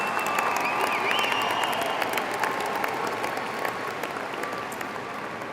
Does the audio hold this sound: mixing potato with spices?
no